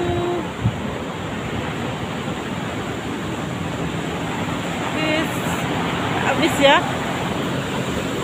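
Ocean waves wash onto a beach in Bengkulu Utara with a constant broad surf roar, close and steady with slight swells, while a person speaks briefly over it.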